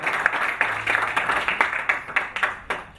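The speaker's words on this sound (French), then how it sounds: "que vous pouvez applaudir un petit peu" A small audience claps at a boxing press conference, a short burst of fairly close, uneven handclaps tapering off over a few seconds.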